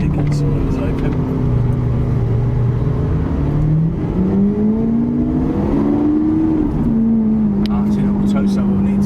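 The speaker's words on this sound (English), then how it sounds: "Just leaving it in first gear so we can get a little bit of sound." A Lamborghini Aventador SV engine held in first gear, its deep tone rising and falling with throttle before climbing steadily as it accelerates, loud and close from inside the car.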